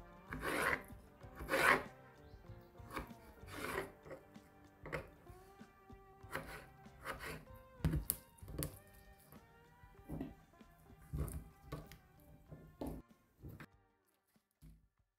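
A knife chops peeled potatoes into cubes on a cutting board, giving quiet, irregular clicks and knocks of the blade meeting the board, close up and with no one talking.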